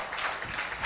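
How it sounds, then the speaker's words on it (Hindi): A church congregation claps loudly in a brief, dense burst of many hands. "ताली मारिबा जोर से"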